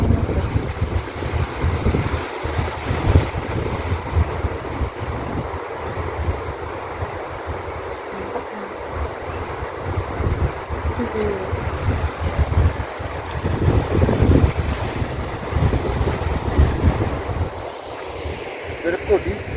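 Steady, loud roar of the Sipiso-piso waterfall, a continuous rushing wash of falling water with wind-like noise throughout, while people talk nearby.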